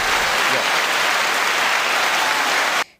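Applause sound effect: a dense, even burst of crowd clapping played loud and close, holding steady for under three seconds before cutting off abruptly.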